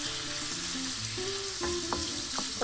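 Meat browning in a pan for adobong sitaw, a steady close sizzle with a few scraping stirs and small pops, no voices.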